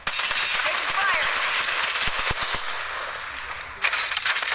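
Loud automatic gunfire crackles in an Apex Legends firefight, a dense, sustained burst of rapid shots that eases off after a few seconds before another sharp volley starts up.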